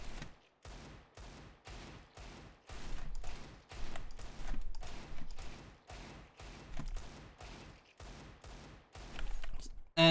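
A revolver fires over and over on a video game aim-training map, about eighteen sharp shots at a steady rhythm, each with a short decaying tail.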